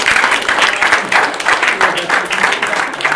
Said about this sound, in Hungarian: úgyhogy tapsoljuk meg egymást